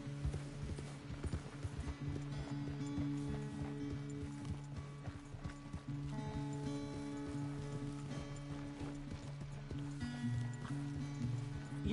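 A horse walking in the game Red Dead Redemption 2, hooves clip-clopping at a steady pace, close and clear over a low continuous background of music and ambience.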